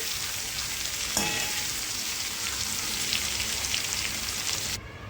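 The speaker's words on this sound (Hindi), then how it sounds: "और इसे 2 मिनट के लिए हम और भूनेंगे" Mixed vegetables fry in oil in a kadai, a dense, constant crackling sizzle with one sharp clink of a spoon, then the sound drops suddenly near the end.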